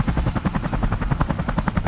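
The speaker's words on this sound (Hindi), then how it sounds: "हमारे गांव में हेलीकॉप्टर उतरा है।" A helicopter landing in a village gives a loud, close, rapid rhythmic chop of rotor blades, with evenly spaced beats over a steady engine drone.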